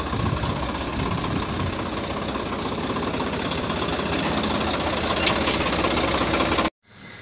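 A Swraj 855 FE tractor with a 3307cc engine and side-shift gearbox idles nearby with a steady, rough diesel knock, loud and continuous before cutting off abruptly near the end.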